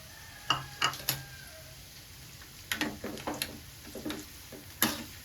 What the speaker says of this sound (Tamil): எல்லாத்தையும் சேர்த்து நல்லா வதக்கிக்கலாம்